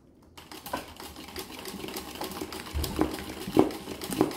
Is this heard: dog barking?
no